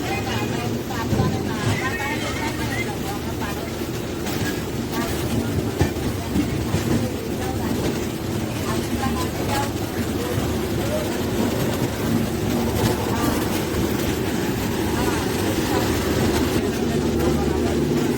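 Train 22738 pulls out of Ahmedabad station, a steady low rumble of rolling railcars with faint clatter running throughout, while a person talks over it.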